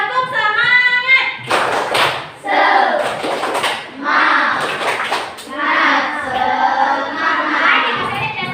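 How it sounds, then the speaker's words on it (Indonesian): Primary school children in a classroom perform the 'tepuk semangat' spirit clap, with several bursts of rhythmic clapping mixed with children's chanting voices. "Tepuk semangat."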